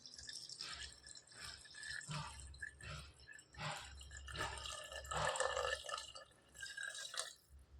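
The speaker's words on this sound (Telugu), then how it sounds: "ఇప్పుడు వాటర్ వేసాం కదా" Water being poured into a pan of frying dal with amaranth leaves and garlic, giving uneven splashes, gurgles and sizzling bursts that rise and fall for several seconds.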